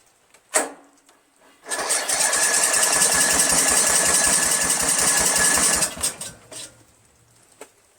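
A Briggs 17.5 HP engine on a Craftsman lawn tractor under rebuild, earlier thought to have no compression, is started off choke: a sharp click, then about four seconds of loud, rhythmic, pulsing engine roar that cuts off abruptly, followed by faint clatter.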